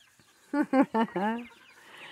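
Hens in a morning farmyard shared with ducks and turkeys let out a quick run of four or five loud, close clucks, then fall quiet.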